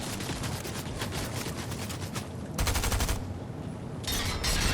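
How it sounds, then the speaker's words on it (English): Shotgun blasts in the Fortnite video game, heard as bursts of loud gunfire alongside a dense, noisy battle soundscape, with no talking. "I shotgun him right there"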